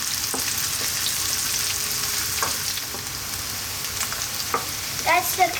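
Mushrooms for a mushroom cream pasta sizzle steadily in a pan. A few soft stirring clicks and a small rattle come near the end.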